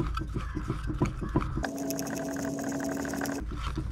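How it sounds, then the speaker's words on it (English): A Sta-Rite Dura-Glas pool pump impeller being spun clockwise onto its motor shaft, giving a close, steady whirring drone of a little under two seconds between softer handling noises. "spin the impeller on clockwise"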